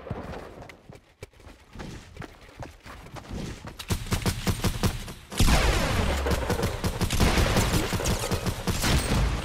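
Rapid video game gunfire shot through a wall comes as dense bursts of sharp shots, building into a loud, continuous volley in the second half.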